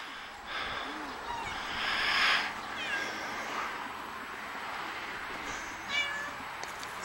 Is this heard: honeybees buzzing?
no